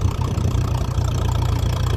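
A 1957 Ferguson 35 tractor running on TVO, its engine giving a steady, close, low chugging rumble throughout.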